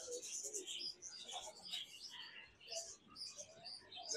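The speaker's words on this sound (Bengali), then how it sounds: "কোকাটেল আর বাজরিগার একসাথে আছে দেখা যায়।" Cockatiels and budgerigars chirp in a colony aviary at Batu Caves, Kuala Lumpur, with pigeons flying nearby; a dense, continuous layer of overlapping high-pitched tweets and calls, fairly faint and distant.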